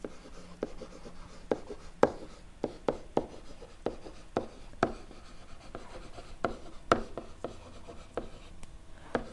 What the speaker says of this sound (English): Let's write that in our notes.